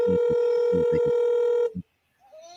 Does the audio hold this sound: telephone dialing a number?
yes